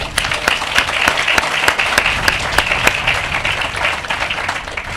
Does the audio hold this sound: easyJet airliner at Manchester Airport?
no